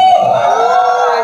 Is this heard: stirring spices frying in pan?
no